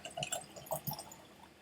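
Whisky trickles from an unscrewed shampoo dispenser bottle into a glass in a few quiet, splashy gurgles and drips, faint and close.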